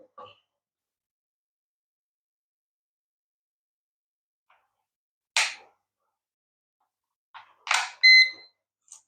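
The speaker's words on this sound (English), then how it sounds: "made a beep" A few short electronic beeps from a radio-controlled alarm clock ring out in near silence, with a brief noisy burst just before a bright tonal chirp.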